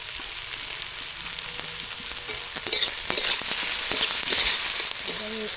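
Tomato and onion frying with salt in a pan for a chicken pakora curry, a close crackling sizzle with frequent sharp scrapes and clicks of stirring that grows a little louder midway.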